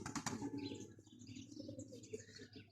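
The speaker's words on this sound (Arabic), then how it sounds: "اليوم طلعنا هاي الطيور" Pigeons flapping their wings as they take off and fly from a rooftop, soft fluttering bursts with light chirps, close and fairly quiet against a low background hum.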